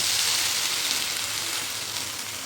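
Sweet dhapate flatbreads fry in oil on a griddle, giving a soft, steady sizzling hiss that slowly eases off, with no talking.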